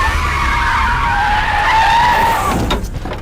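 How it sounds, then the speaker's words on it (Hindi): A car's tires skid with a long, loud screech that rises and holds for about two and a half seconds, then breaks off into a rougher scrape. "गाड़ी को ब्रेक मारा क्या?"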